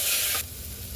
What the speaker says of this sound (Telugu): 2 మినిట్స్ పాటు దీన్ని కూడా మనము మీడియం ఫ్లేమ్లో వేయించుకోవాలి